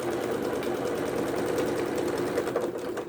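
A sewing machine stitches the side seam of a small 6-inch quilt block with a continuous, close, whirring hum throughout.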